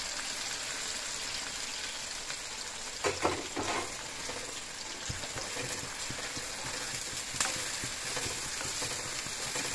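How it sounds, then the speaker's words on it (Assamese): Chopped onions sizzle steadily in hot refined oil with cinnamon for a pulao, a dense close crackle that runs throughout with a few louder spits and stirring scrapes, and no talking. "ভাজি দিব যেতিয়ালৈকে পিঁয়াজৰ কালাৰটো ব্ৰাউন নহয় তেতিয়ালৈকে পিঁয়াজখিনি ভাজি ল'ব"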